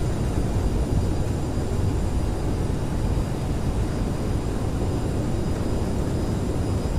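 A CRJ700 jet in Microsoft Flight Simulator roars steadily with its thrust reversers deployed while slowing after landing, a dense, constant rumble of engine noise that stays loud and even throughout.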